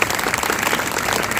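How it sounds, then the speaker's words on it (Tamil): Enthusiastic audience applause at a St. Patrick church gathering, a dense, steady burst of many hands clapping that holds at an even loudness throughout, with no speech over it. "ஒரு உற்சாகமாக கைத்தட்டி பாராட்டலாம்."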